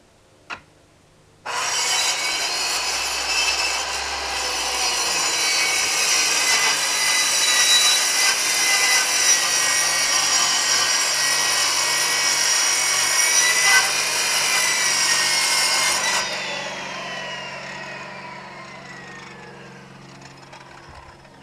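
A saw cuts steadily through a wooden board for a shed door, a loud continuous rasping whine lasting about fifteen seconds before winding down, with a faint thump just before it starts.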